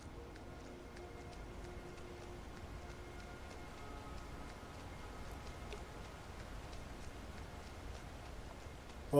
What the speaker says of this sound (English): it's raining and it's cold out